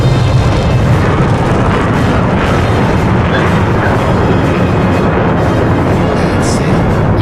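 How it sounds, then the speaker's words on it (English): An F-16 jet on full afterburner in the DCS flight simulator game gives a loud, continuous, dense roar that fills the whole clip without a break. "Full afterburner."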